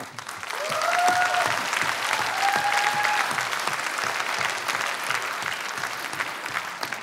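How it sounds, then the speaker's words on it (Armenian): An audience at a dance show claps steadily and warmly for several seconds, dense and even, with a couple of brief whistles near the start. "եկեք ծափարենք"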